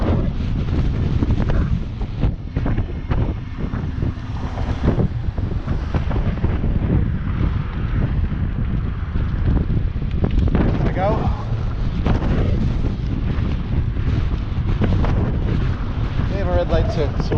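Strong wind blows steadily over open water, roaring loudly into the microphone for the whole stretch, with someone speaking briefly over it.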